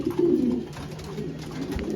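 Racing pigeons coo in the loft, a low soft warbling call close by, with more muffled coos and rustling behind it over two seconds.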